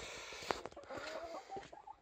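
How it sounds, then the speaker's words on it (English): Chickens clucking outdoors in a snowy garden, faint and somewhat distant, with a sharp brief squawk and a few soft warbling clucks. "chickens."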